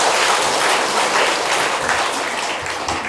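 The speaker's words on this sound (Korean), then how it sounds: "우리 하나님께 감사의 박수 드리겠습니다" Congregation applauding in a church during a revival service, a dense, steady wash of clapping from many hands that fills the whole clip without letting up.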